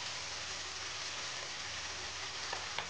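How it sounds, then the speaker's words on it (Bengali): Spices fry in a pan, giving a steady, even sizzle with a soft hiss and crackle throughout, a few sharper pops toward the end, and no speech over it. "আর অবশ্যই এই মশলাটা ভালো করে ভেজে দিতে হবে, খুবই ভালো করে।"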